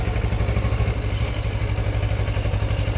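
A motorcycle engine runs close by with the throttle applied, a loud, pulsing mechanical throb with steady clatter, as a first-time rider pulls away from a stop.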